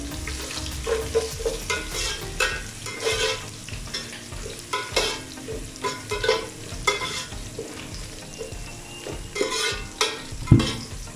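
Garlic, ginger and whole garam masala sizzle in hot oil for keema pulao, with a steady fry hiss broken by repeated scraping stirs of a spoon against the pan, close and moderately loud, no voices.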